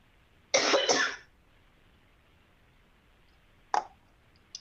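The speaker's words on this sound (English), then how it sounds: "Something about this transition period makes me start coughing each time." An adult coughs once in a brief harsh burst, followed by a short faint cough or throat click a few seconds later, close to the microphone and otherwise quiet.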